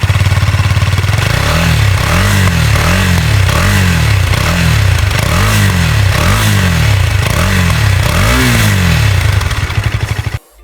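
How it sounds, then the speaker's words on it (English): A Husqvarna Vitpilen 250 cafe racer motorcycle idles and is revved repeatedly, its exhaust rising and falling in about eight rhythmic blips, loud and close, before cutting off abruptly at the end. "Let's listen to the exhaust sound of this motorbike."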